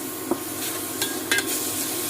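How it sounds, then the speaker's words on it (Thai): Minced pork being stirred in a hot pot with a little water for Thai larb, a soft continuous sizzle with a few light scraping clicks of the spoon, close and without talk. "คนนะคะให้หมูสุก"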